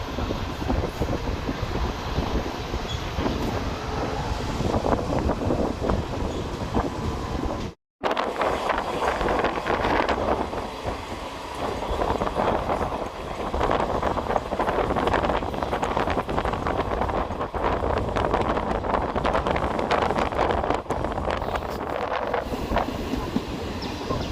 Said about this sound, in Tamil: கீழக்கடையம் அப்படிங்கிற ஸ்டேஷன் வந்து நம்ம ட்ரெயின் டிபார்ட் ஆகி போயிட்டுருக்கோம்.